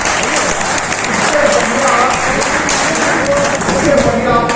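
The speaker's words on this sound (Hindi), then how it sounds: "यदि आप लोग तालियां बजा के हमें आदेश कर दें तो मैं वो शेर सुना दूँ।" An audience at a Holi gathering of poetry in Kanpur bursts into sustained clapping, a dense wash of many hands that swells and holds throughout, with some voices mixed in.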